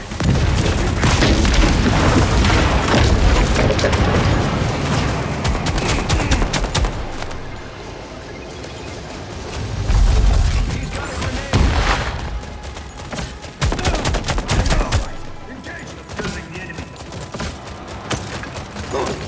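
Sustained gunfire and heavy booms in an Expanse: Osiris Reborn shooter battle, loud bursts of automatic fire with intermittent blasts throughout, dense and close.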